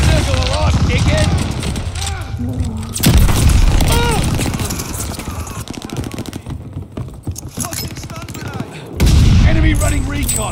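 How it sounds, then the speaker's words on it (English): In COD Vanguard Domination multiplayer, a sticky bomb detonates in heavy booms amid rapid bursts of submachine-gun fire, loud and close, with someone talking over the chaos throughout. "Throwing a sticky bomb."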